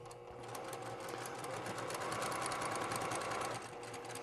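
A sewing machine back stitches the seam of a lined zipper pouch. Its motor hums close by in a fast, steady whir, the needle chatters continuously, and the machine slows slightly near the end. No one talks.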